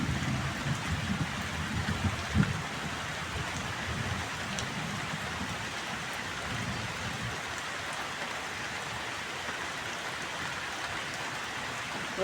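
Rain falls steadily on a village house at dusk, a dense continuous patter close by with a few heavier low thumps early on, and no voices.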